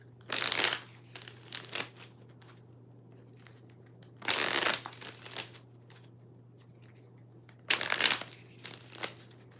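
Tarot cards shuffled and drawn, three separate quick riffling bursts a few seconds apart, close and crisp over a low steady hum.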